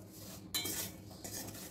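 A spoon scrapes and clinks against a steel kadhai while amla pickle with jaggery is stirred, a quiet, close metallic scraping that sharpens partway through and carries on in uneven strokes.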